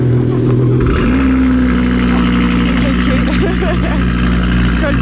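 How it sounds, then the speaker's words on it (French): An Audi RS3 engine on a cold start barks to life about a second in, then settles into a loud, steady high idle with a deep, even rumble close by. "Cold start du RS3"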